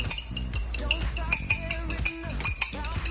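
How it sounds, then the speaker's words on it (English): A whisk beating an egg in a bowl clinks out quick, uneven metallic taps against the side, close and fairly clear over faint background noise. "Now what you want to do is you want to mix, you want to whisk it."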